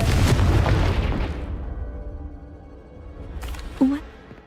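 Confringo blasting spell explodes in Hogwarts Legacy, a loud booming burst with rumbling debris that fades over a second or so, followed by a brief sharper pop near the end.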